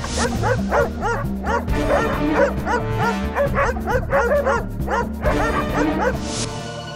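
Several aggressive dogs bark loudly and repeatedly in rapid overlapping bursts, with yips and whimpering mixed in, close and continuous throughout.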